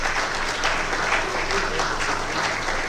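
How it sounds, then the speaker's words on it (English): At a live event unveiling KBC sporting activities, the audience gives a warm round of applause for the chief guest: sustained, even crowd clapping filling the hall. "Let's give our chief guest another warm round of applause."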